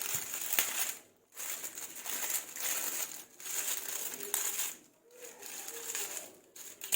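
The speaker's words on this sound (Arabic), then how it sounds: "هنجيب اي خلة ونبدأ نخرم" A toothpick pierces a plastic roasting bag holding a chicken, making steady crinkling and rustling plastic sounds with brief pauses between pokes, close and fairly loud, with no talking.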